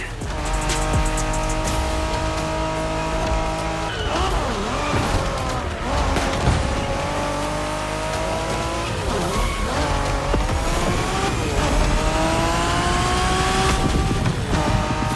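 Racing cars in The Crew Motorfest, on a Japanese street race, roar continuously at high revs. Tires squeal and skid through corners, and engine pitch climbs and dips through gear changes across a loud, unbroken stretch.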